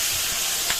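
Lentils poured into a pot of hot, reddening onion-garlic tempering give a steady, close sizzling hiss that swells briefly near the end, with no talking.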